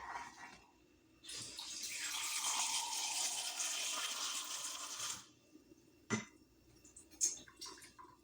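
A small amount of water pours into a pot of degi zarda sweet rice with sugar already added, a steady splashing stream lasting about four seconds, followed by a few light clinks.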